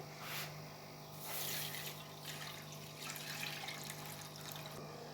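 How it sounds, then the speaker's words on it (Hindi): Milk pours into a pan set over a lit flame while making rasmalai, a steady quiet liquid rush with brief louder bursts, heard alone without talk. "तो अब डालेंगे दूध।"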